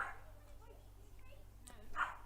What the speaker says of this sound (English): That's a dog, not a raptor sound effect.